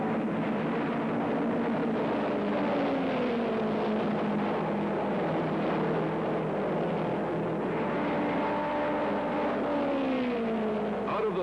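Jaguar race cars from 1957 lapping a rough banked oval track, engines droning steadily with rising and falling pitch as they pass through the north turn, a continuous loud roar with no speech.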